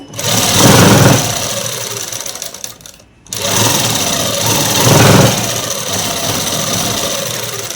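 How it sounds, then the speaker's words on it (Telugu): A sewing machine stitches a folded dress hem with short, small stitches, a loud, steady close-up whir that pauses briefly midway before running on again. "కింద ఊరికి ఇలా మడిచి అనేది కుట్టు వేసేసుకుంటే సరిపోతుందండి."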